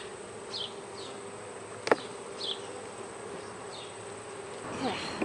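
Honey bees buzzing around an open beehive during a hive inspection, a steady low drone with occasional individual bees whining past close by, plus one sharp click from handling.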